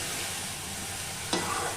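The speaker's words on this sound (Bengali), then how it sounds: "এই যে কষিয়ে নিচ্ছি।" Spiced banana flower and potato mixture being stir-fried in a pan, an even close sizzle with a sudden scrape of the spatula near the end, no talk.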